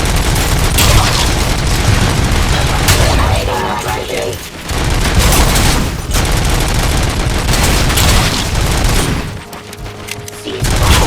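Heavy gunfire in the RoboCop video game, loud sustained bursts and booming shots with mechanical clatter, briefly dropping away twice before resuming at full intensity.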